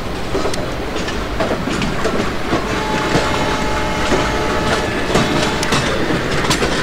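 A Bhusaval–Katni passenger train departs Savda station in the Open Rails train simulator, with a continuous loud rumble and rhythmic clickety-clack of wheels over rail joints, and no voices.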